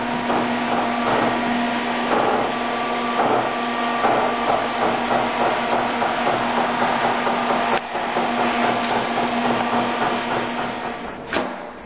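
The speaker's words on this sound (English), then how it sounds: "trimming the images to the final size using the electric cutter" An electric cutter trims laminated poster prints for wood plaque mounting, a steady motorized whir with a constant tonal hum running throughout, punctuated by repeated faint chopping clicks and a sharper knock near the end.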